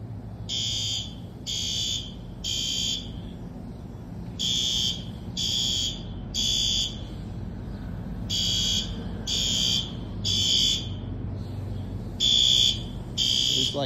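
Workplace fire alarm during a test, loud electronic bursts in groups of three repeating steadily with short gaps, sounding on and on over a low background rumble.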